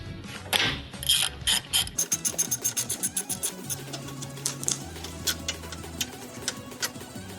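A ratchet clicks in a quick, regular run of sharp ticks while loosening a 12 mm brake line bolt at the spindle of a 2019-2021 Subaru Forester, close and distinct, with a low steady hum underneath.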